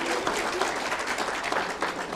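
Steady applause from an awards ceremony audience, many hands clapping together in a continuous even wash for a couple of seconds, with no voices over it.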